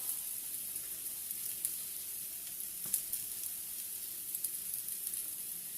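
Chicken nuggets and green beans sizzle together in a pan, a faint, even crackle held steady throughout with an occasional small tick or pop.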